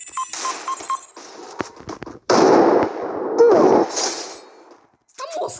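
Gunfire in a video game shootout, with sharp bursts of shots and loud broadband blasts clustered through the middle, mixed with people talking.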